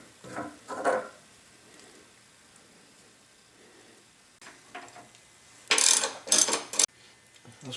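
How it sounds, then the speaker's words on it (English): Bolt being unscrewed on a dried-up Yates American B244 drive motor, with a few short scraping and ratcheting metallic bursts, close and fairly loud, separated by quiet pauses and no talk. "This is unscrewing."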